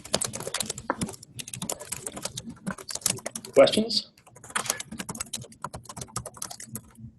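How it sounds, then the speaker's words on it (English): Rapid clicking of a computer keyboard patters on steadily throughout, picked up over a meeting call, with a person briefly speaking partway through. "I hear somebody typing like that."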